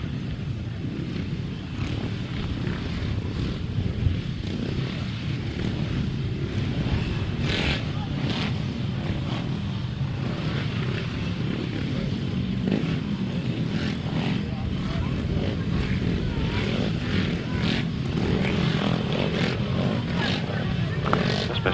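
250cc solo motorcycles race at a grasstrack meeting, their engines snarling steadily and continuously at moderate distance, with a faint voice talking underneath at times.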